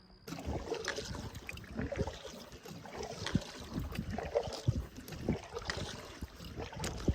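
Solo canoe paddling on a lake after a portage, with soft, irregular water splashes and dips from the paddle under steady wind noise, close to the microphone and fairly faint throughout.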